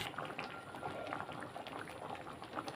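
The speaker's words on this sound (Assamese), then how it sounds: "এয়া মোৰ দাইল উতলি আছে" Dal bubbles at a gentle boil in a pot, a quiet continuous burble of small popping bubbles heard close up with no one talking.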